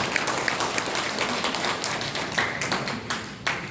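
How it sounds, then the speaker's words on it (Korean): Scattered applause from an audience at a housing association committee meeting, a thin patter of individual claps that comes and goes, with some louder distinct claps near the end. "큰 박수 부탁드리겠습니다."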